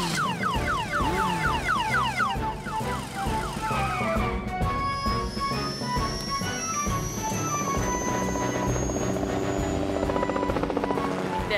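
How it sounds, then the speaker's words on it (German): A helicopter flies in an animated Fireman Sam cartoon, its steady rotor and engine drone loud and continuous throughout, mixed with a rising tonal whine and busy cartoon music and effects. "er soll dich mit dem Hubschrauber dort treffen"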